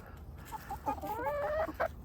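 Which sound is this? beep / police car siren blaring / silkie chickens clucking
silkie chickens clucking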